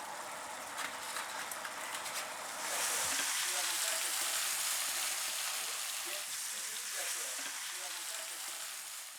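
Fresh mackerel frying in a pan with butter, spring onion and alcohol-free beer, a steady broad sizzle that swells louder after a few seconds and holds, with faint voices in the background.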